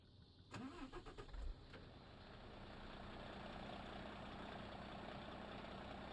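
A Gerlinger G800T semi-truck mod in SnowRunner cranks briefly with a few stuttering turns, catches, then settles into a steady, low diesel idle that drones on evenly without talk.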